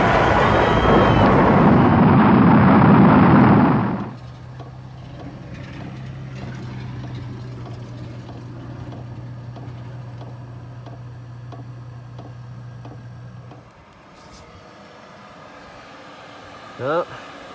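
A Webasto gas heater in a Promaster van fires up with a steady low hum that runs for several seconds. Soft ticking and clicking mechanism sounds accompany it, after a loud burst of noise at the start.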